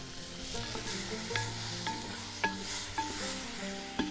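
Beef and onion stew cooking over a fire is stirred, with a soft sizzle beneath several distinct scrapes and knocks of a spoon against the pot, close up and moderately quiet.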